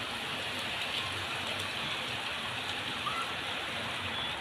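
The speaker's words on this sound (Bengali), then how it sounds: "আর ওই তো ওখানে যে বৃষ্টি হচ্ছে দেখা যাচ্ছে," Rain falling over rooftops beside a factory building, a faint, even hiss of steady rainfall with no breaks, distant and continuous.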